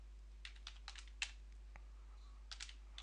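A password is typed on a computer keyboard during a Ubuntu install, giving faint, close, irregular key clicks in small clusters over a steady low hum.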